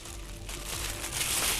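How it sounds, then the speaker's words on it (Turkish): A plastic oven bag crinkles and rustles close by in a kitchen while salad is made, a continuous crackling handling noise with no talk. "fırın poşetini aldık"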